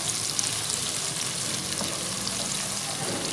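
Thinly sliced onions fry in hot oil with a dense, even sizzle that holds steady and close throughout, with only faint stirring noises.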